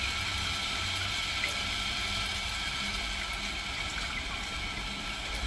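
A smart toilet's bidet wand sprays water in a steady, even hiss with a faint pump hum beneath, continuous and close with no talking over it.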